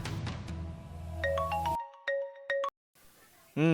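An incoming call sets off a phone ringtone: a short melody of bright stepping electronic notes, first over a voice, then alone, before cutting off abruptly.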